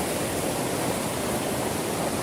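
Small creek pouring into the Upper Red River, a steady broadband rush of flowing water close by, continuous and fairly loud with no voices over it.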